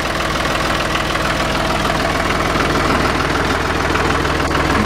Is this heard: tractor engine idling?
yes